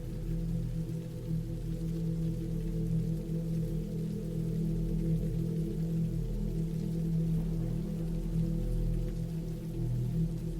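Steady, heavy rain falls continuously as a dense, even hiss and patter with no breaks, fairly loud and close.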